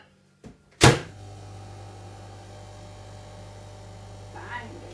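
A sharp click and thud, then a steady low electrical hum of a microwave oven running, with a faint rattle near the end.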